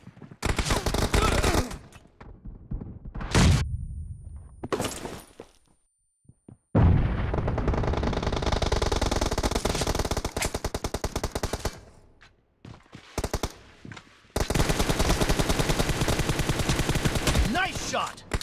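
Gunfire in a BGMI team deathmatch: long, loud bursts of automatic fire with brief gaps and a silent pause, and some game voice callouts mixed in.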